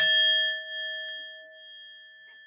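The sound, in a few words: gong sound effect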